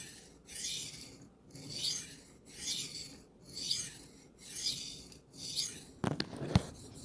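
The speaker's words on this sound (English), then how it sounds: "we'll finish on this stone, just kind of reprofile it, fix the angles all the way across the edge on both sides" Steel knife blade, Zmaxx PM, being reprofiled on a coarse sharpening stone, five steady rhythmic gritty rasping strokes back and forth, close and fairly quiet, followed by a couple of sharp clicks.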